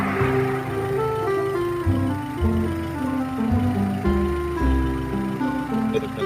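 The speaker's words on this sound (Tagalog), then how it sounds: "Guys, yung tunog ng engine natin." Car engine running at steady speed during a long highway drive toward Cavite, a low continuous hum and drone with shifting tones inside the cabin, moderately loud with no clear talking.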